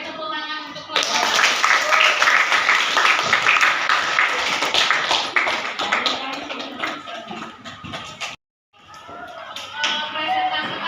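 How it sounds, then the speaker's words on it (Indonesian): A room of participants gives a presenting group a round of applause, dense continuous hand clapping lasting several seconds, cutting off briefly before resuming more lightly, with some voices underneath. "Beri tepuk tangan untuk kelompok."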